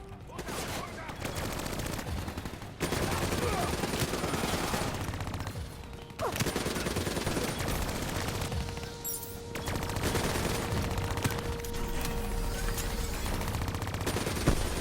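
Call of Duty: Black Ops III gunfire, sustained heavy automatic bursts and explosions in a dense firefight that runs almost nonstop for the whole stretch, with brief gaps and a voice speaking underneath.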